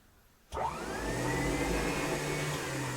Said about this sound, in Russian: Слишком рано вентилятор включаю, наверное.